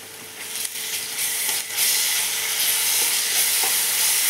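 Chicken fries in a pan with ginger garlic paste, a close continuous sizzle and hiss with occasional stirring scrapes, growing louder and steadier partway through, with no talk.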